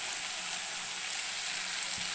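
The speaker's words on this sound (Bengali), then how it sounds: "মশলা দিয়ে তেল বেরিয়ে এসছে। তো আমি এবার জলটা দিয়ে দেবো।" Mustard and poppy seed spice paste sizzles steadily in hot oil for a fish curry, giving a constant close hiss with no pauses.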